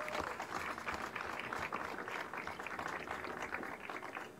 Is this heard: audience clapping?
yes